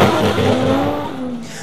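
Drift cars battling at the hairpin of a D1NZ drifting event, including a Nissan S13 and S14: a loud, continuous engine roar with a falling pitch sweep and tire noise, close and steady for a short burst.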